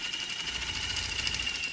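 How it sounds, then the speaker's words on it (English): A spray paint can held upside down on a Vortex paint mixer, its ball bearing circling the inside edge, giving a steady close mechanical whir with a fast, even rattle and a persistent high whine. "You can hear the ball bearing going around the edge."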